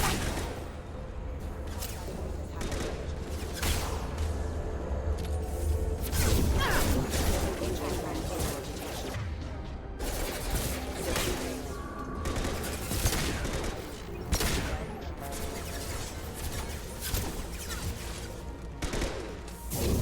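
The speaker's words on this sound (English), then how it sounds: "Firing a high-impact shot." Constant gunfire fills a Mass Effect 2 firefight with dense volleys, rapid bursts and heavy impacts. Whooshes and crashes layer over it as the combat noise runs loud without a break.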